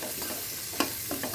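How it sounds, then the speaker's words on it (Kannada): A spoon stirs vermicelli and spice masala in a hot pan over a low flame, with soft scraping strokes and a light sizzle beneath, plus one sharp clink near the middle. "ಇವಾಗ ಚೆನ್ನಾಗಿ ಮಿಕ್ಸ್ ಮಾಡ್ತಾಯಿದ್ದೀನಿ"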